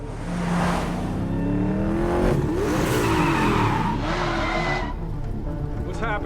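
Car chase in The Punisher, with an engine revving and tires squealing in long, rising and falling skids, loud and close, and a voice talking briefly over the action.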